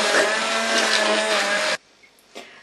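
A blender whirs loudly and steadily at high speed, mixing quail eggs for mayonnaise, then cuts off abruptly, followed by a brief quiet clatter nearby.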